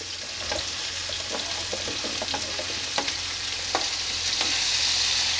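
Mutton pieces fry in a pan with a continuous crackling sizzle, dotted with sharper pops and spatters as they brown, close and moderately loud with no talking.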